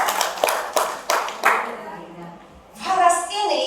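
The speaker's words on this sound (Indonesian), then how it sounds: "Luar biasa, tepuk tangan untuk Faras ya." Audience at a business seminar in Malang applauds, several bursts of hand claps up front and then a talking voice over the tail of the clapping.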